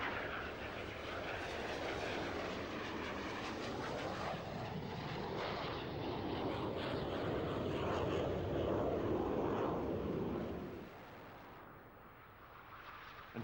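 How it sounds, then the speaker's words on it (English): An Aermacchi MB339 jet flies a low-speed aerobatic display at an air show, and its engine roars steadily and loudly for about ten seconds, then drops away to a fainter, distant rumble. "Crazy flying, they call this, and it does demonstrate the low-speed maneuverability of this Aeromacchi MB339."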